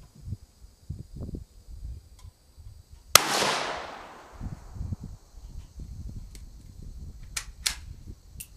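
A .458 Lott rifle fires one shot at a bowling ball outdoors: a single sharp, loud crack with a hissing, decaying tail, set against a quiet background of faint rustling and knocks.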